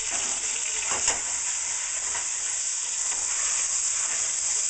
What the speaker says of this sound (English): Stir that around some more.